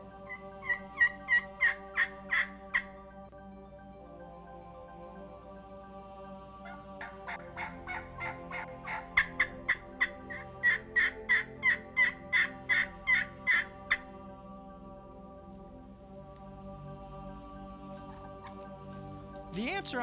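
A wild turkey gobbler, far off, answers locator calls with repeated rapid gobbling bursts in short, evenly spaced rattling series, separated by quieter gaps, over a faint steady background.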